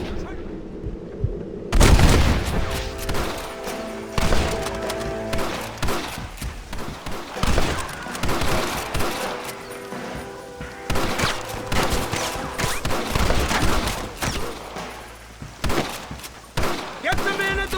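Rapid bursts of gunfire from the Red Dead Redemption video game, loud and dense, with shots crackling repeatedly throughout amid shouting voices and game music.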